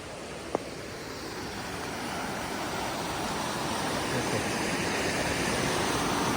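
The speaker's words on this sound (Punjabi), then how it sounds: "ਪਾਣੀ ਦਾ ਬਹਾਵ ਦੇਖੋ ਜੀ ਕਿੰਨਾ ਤੇਜ਼ ਆ" Fast floodwater in Punjab rushes along a stream beneath a canal in a constant, broad roar that builds slightly and stays loud throughout, with one brief click near the start.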